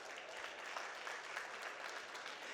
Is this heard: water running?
no